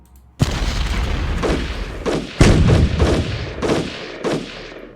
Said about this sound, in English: See if I can get as much of this artillery as possible.